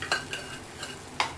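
Almonds sizzle softly in hot ghee for a sweet milk halwa, with a steady low frying hiss and several sharp bursts of stirring spoon scrapes in the pan.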